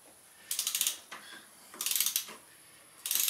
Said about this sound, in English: Torque wrench, and I want this on 95 newton meters.